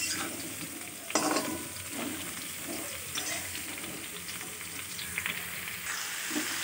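Mango pieces stir-fry in hot oil in a pan, a dense close sizzle with scraping strokes of the spoon and a brief louder clatter near the start, with nobody speaking.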